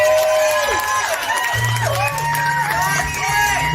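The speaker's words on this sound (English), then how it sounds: "Give him a round of applause, please." Live audience cheering and clapping for a first-time stage performer at a club-style show, whoops and crowd noise mixed with sustained musical tones throughout.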